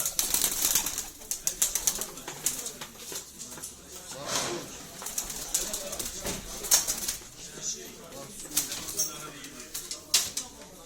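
Pigeons coo and flutter at a pigeon auction in Eskişehir, with scattered wing flaps and calls and people talking throughout.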